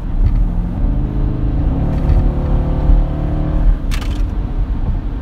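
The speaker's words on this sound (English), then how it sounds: "It's just an amazing sounding exhaust." Factory exhaust on a Dodge SRT Durango revving, a loud, steady deep engine roar that swells and falls across the whole stretch, with no talk over it.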